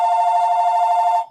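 A telephone rings with a steady, loud electronic tone that holds for just over a second and then cuts off, with no voices over it.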